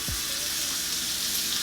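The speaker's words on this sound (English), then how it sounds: "And then I'm going to put some butter in here. I put about... So the butter goes in." Butter dropped into a hot pan on a grill, giving a loud steady sizzle and crackle that fills the whole moment, close up with no talking.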